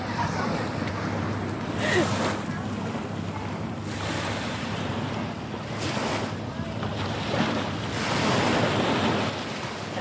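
Sea waves wash steadily against the seaside at Punggol Promenade, Singapore, with gusting wind buffeting the microphone in a continuous, loud roar and swells of surf rising and falling.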